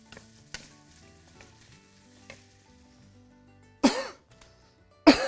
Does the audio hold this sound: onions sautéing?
yes